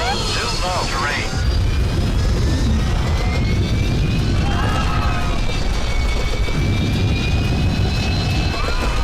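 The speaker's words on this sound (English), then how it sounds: "Two planes!" Low-flying military airplane in a wartime action film roars steadily overhead, a loud broadband engine rumble filling the scene, with shouted voices and cockpit talk over it.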